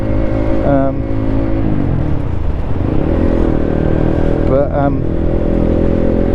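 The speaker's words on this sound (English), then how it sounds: "what you can hear is that Black Widow exhaust on it, which is too noisy for me" A Honda CB125 motorcycle with an aftermarket Black Widow exhaust idles and revs with a loud, throaty exhaust rumble, close by, while someone talks over it.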